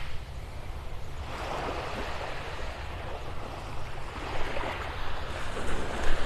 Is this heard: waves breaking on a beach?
yes